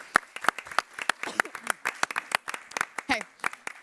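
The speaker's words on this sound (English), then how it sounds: "please, round of applause for the special assistants" Scattered applause for the quiz scoring assistants at a panel event, a handful of distinct claps rising and falling close by while a host speaks over them.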